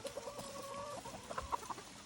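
Chickens cluck softly and intermittently, a few short calls against a low, steady background hum, fairly quiet and close.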